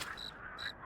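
Two short croaking calls from a frog in The Cursed Forest, each a brief trilling chirp with a gap between, fairly quiet and alone.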